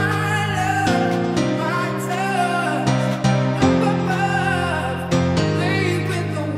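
Piano chords from a dance track carried by a warm Ableton Wavetable synth pad pulsing under an amplitude LFO, sustained and steady throughout with rhythmic chord changes and no voices.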